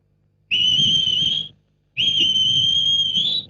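Two long, steady whistled notes, each rising slightly, separated by a short pause, imitating a koel's call.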